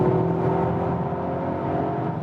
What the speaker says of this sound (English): screaming from that exhaust